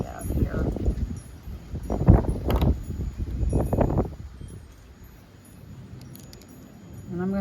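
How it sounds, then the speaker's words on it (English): Wind blows hard outdoors, a dense, steady low rumble buffeting the microphone for the whole stretch, with gusts swelling and easing and faint rustling on top. "It is really windy out here."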